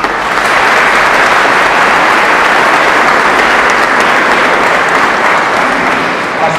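A church congregation at Mass claps in loud, sustained applause, many hands steady and dense from start to finish.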